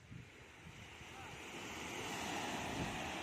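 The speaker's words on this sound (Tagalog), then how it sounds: "Sarap ng alon." Ocean waves wash in at a beach in Dinggalan, a soft, fairly faint surf swell that builds gradually, mixed with wind buffeting the microphone.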